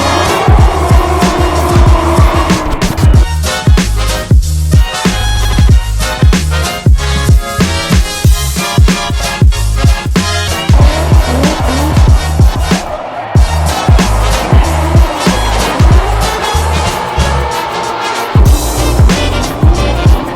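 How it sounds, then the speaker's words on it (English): Race cars drifting at the Long Beach Grand Prix, with loud, continuous engine roar and repeated tire squeal and skidding up close, engines revving and shrieking throughout. "See the cars spinning around, throwing up some smoke."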